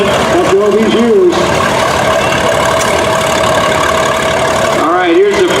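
A 1954 Super MTA tractor rolls along in a tractor show parade. Its engine gives a steady, close rumble throughout, and a voice is heard briefly at the start and again near the end.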